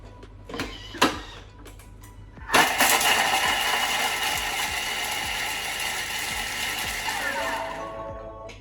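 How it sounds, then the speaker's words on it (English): Food processor chopping sprigs of rosemary: a few clicks as the lid and base lock, then a loud steady whirring motor for about five seconds that winds down, close by with no talking. "There's our sprigs of rosemary and let's chop that up."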